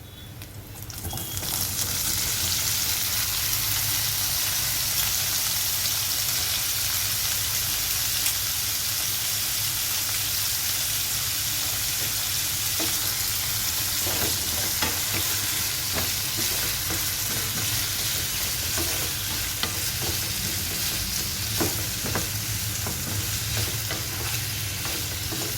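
Potato pieces sizzle steadily in a pan of hot tempering with curry leaves for aloo fry with urad dal, a continuous loud frying hiss with occasional stirring clicks.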